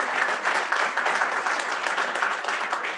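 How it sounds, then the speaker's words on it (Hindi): Steady applause from an audience at a blood donation felicitation ceremony for an ICAI branch in Jaipur, dense and continuous for the full span with no clear gaps. "तालियां बजाते रहे भाई।"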